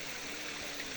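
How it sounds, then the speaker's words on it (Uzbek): Spring water flowing down in a city garden in Khanabad, a steady, soft rushing and trickling wash that continues unbroken, heard alone. "Mashinadan tushib kelyapti mana buloq suvi"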